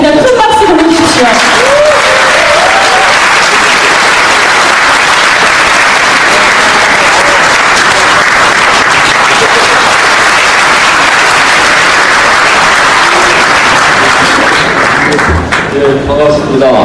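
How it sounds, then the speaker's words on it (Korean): Loud, sustained applause from a large crowd at a political party's founding convention fills the whole stretch, dense and steady, with a brief voice near the start and again at the end. "큰 박수 보내주십시오."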